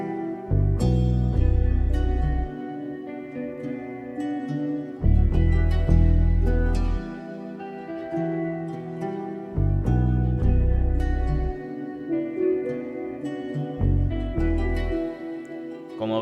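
Soft, mellow sampled upright piano (Kontakt Gentleman with the soft pedal engaged) playing sustained chords through Valhalla reverb and delay, with repeated low bass notes and lingering ambient tails, alone and without talk.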